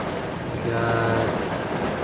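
Heavy rain drums steadily on a car roof and windshield while parked outside an MVC emissions inspection station, a dense, continuous hiss with a low rumble underneath and no talking.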